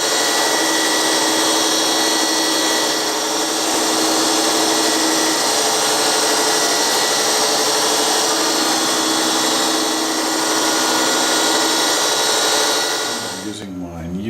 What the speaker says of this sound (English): I'm using a 3mm full flute finishing end mill. I'm going to full depth, and I'm running it at 4000 RPM